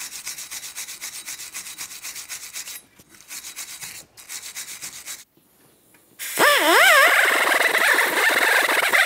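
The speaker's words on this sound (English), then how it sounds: "To do this, you can use a wire brush or even some sandpaper if necessary." A wire brush scrubbing the rotor mating surface of a wheel bearing hub on a 2010-2013 Kia Forte Koup, rhythmic rasping strokes in bursts with short pauses, then a louder, harsher stretch of scrubbing, close up.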